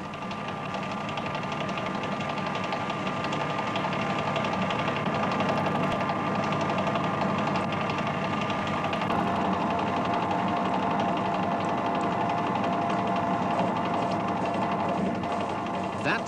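Metal-turning lathe cutting a workpiece whose free end is supported by a dead center in the tailstock, giving a steady, moderately loud mechanical hum and smooth cutting noise with no talk.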